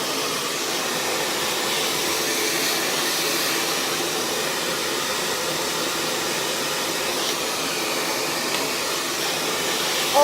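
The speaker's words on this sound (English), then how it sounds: "Keeping that dryer moving at all times and keeping that airflow pointing down the way." Continuous, even whoosh of a hair dryer blowing air during a blow-dry, held at a steady level for about ten seconds with slight fluctuations as it is moved around. No speech.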